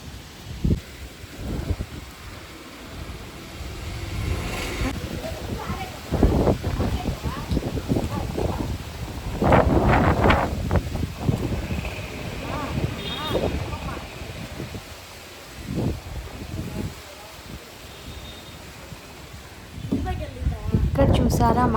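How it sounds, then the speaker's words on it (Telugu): Strong gusty wind before a rainstorm roars and buffets the microphone in surging bursts, with rustling debris and scattered knocks throughout, loud and close. "నేనైతే ఈ గాలుల సౌండ్ని అలాగే క్యాప్చర్ చేశాను."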